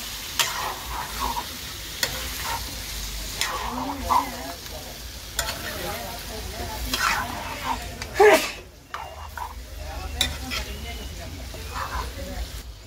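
Chicken sizzles and fries in a pan while a spoon stirs it in intermittent scraping strokes, close and moderately loud, with a voice talking over parts of it.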